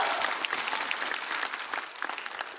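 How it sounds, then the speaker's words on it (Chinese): A studio audience at a Chinese variety show breaks into brisk, dense applause that holds steady, a crowd clapping together without talk. "掌声再给我们的明星。"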